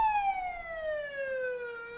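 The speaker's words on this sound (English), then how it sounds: "There's another look at the ambulance." An Australian ambulance siren wails in a steady, slowly falling tone with rich harmonics, loud and continuous throughout, with no voices.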